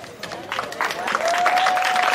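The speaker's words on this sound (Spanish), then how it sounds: "Un aplauso" Crowd applause at a rural gaucho gear contest, a dense clapping wash that builds in loudness, with a sustained whistle-like tone running over it.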